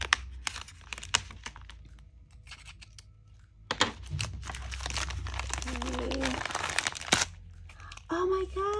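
A cardboard package is sliced open with an X-Acto knife, giving crinkling, crunching and tearing bursts with sharp cracks, close and moderately loud, while a person speaks intermittently.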